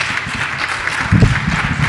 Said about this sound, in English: I just want everybody to give Austin a round of applause